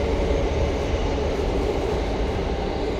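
A train rumbles past near the Grand Union Canal at Haggerston in London, a steady low roar with dense broadband noise holding constant, heard alone without talk.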